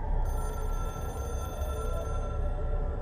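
Telephone ringing in the video game Control, a steady electronic ring with sustained tonal bands that runs for the full three seconds at moderate loudness, with no talk over it.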